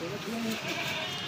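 Goat bleating in a short wavering call as it is loaded among a group of goats for sale, close by, with people talking over it in the background.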